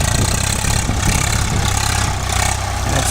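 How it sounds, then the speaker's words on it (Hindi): A heavy engine idles nearby with a steady, throbbing low rumble, running continuously without revving. "देखो अभी आ रहा है हमारा दूसरा ट्रैक्टर"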